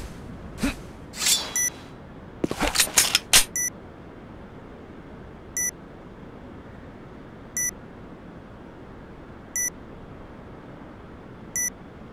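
Planted bomb in Sudden Attack emits short, high electronic beeps at a steady two-second interval, clear against a quiet background, after a few brief bursts of gunfire and shuffling near the start.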